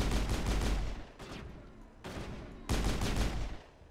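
Gunfire from shooting enemies in the Mass Effect 1 game, loud dense bursts of shots in three stretches with brief gaps between them, close and continuous, no talking.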